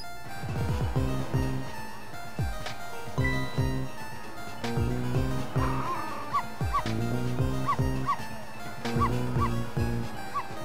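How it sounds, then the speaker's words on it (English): A dog named Missile in the video game Ghost Trick barks repeatedly in sharp, evenly spaced yaps, with a few higher whimpering cries mixed in, all set against a steady background of game music. "No, Missile, you're not supposed to bark"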